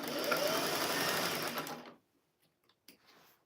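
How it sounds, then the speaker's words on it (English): A sewing machine stitches through layers of flannel for a rag quilt, running in a steady continuous whir for about two seconds before stopping, followed by faint handling clicks. "And we are sewing this."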